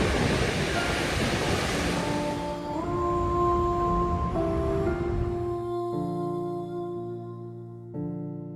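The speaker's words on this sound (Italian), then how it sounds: "ed il mare si fa sentire." Sea waves roll and wash along the Icelandic coast under a cloudy dawn sky, a broad rushing surf that is loud at first, then sinks beneath sustained musical tones.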